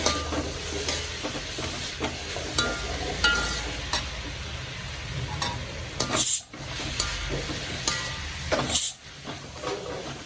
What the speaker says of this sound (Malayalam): ഒരു 1/2 സ്പൂൺ ഇഞ്ചി വെളുത്തുള്ളി പേസ്റ്റ് കൂടെ ചേർത്ത് കൊടുക്കാം.